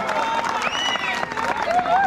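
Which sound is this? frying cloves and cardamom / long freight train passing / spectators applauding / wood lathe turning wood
spectators applauding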